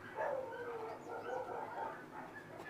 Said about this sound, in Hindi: बाहर कुत्तों की लड़ाई शुरू हो गई बहुत सारी